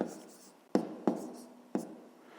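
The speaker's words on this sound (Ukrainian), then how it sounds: "записуємо тоді відповідь до третього завдання" A pen scratches a math answer onto paper by hand, with three sharp strokes or taps over a faint, soft background, heard close and quiet.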